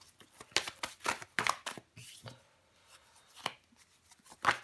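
Tarot cards are laid down one over another on a table, giving a series of soft, close flicks and taps in uneven clusters, with quiet pauses between them.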